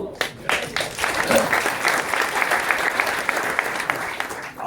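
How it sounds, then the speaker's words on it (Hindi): An audience claps at a motivational speech in Thane, a continuous moderately loud patter of many hands with slight swells. "आपने ताली बजाई"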